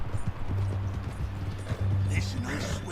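Horse hooves clip-clop in Red Dead Redemption 2 as a rider travels toward Saint Denis, a rhythmic steady gait under a voice talking close by.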